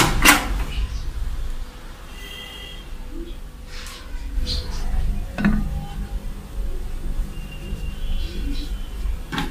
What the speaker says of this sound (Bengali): আমি এখন ওভেনের মধ্যে কেকটা ঢুকিয়ে দিচ্ছি।